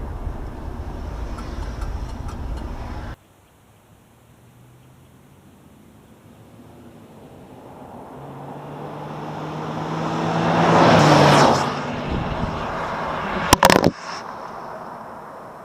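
A 1975 Chevrolet Nova with a weak 110-horsepower engine is floored at full throttle. The engine note rises steadily and grows louder over several seconds to a strained peak, then drops off, followed by a sharp brief clatter.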